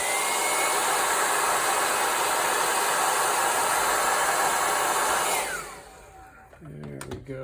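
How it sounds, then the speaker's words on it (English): A hair dryer heats shrink wrap on ground wires: a loud, steady close-up roar of fan and airflow runs for several seconds, then switches off and winds down into quieter handling noises. "The mighty hair dryer."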